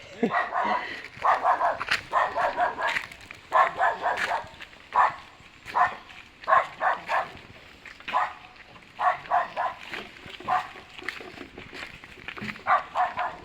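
Several dogs at a lone house in the mountains barking in repeated, rhythmic bursts, fairly close and loud, continuing throughout.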